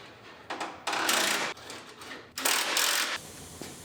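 Bolts being driven in as the front panel is fastened onto a machine, with two loud bursts of whirring impact-driver noise, each about a second long, separated by quieter mechanical handling and clatter.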